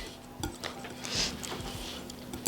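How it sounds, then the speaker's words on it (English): A fork scrapes and clinks against a bowl while whisking tandoori chicken marinade with salt and pepper. Quick, uneven taps sit over a steady low hum, close by and fairly quiet. "I'm just gonna fucking whisk this down without making a mess"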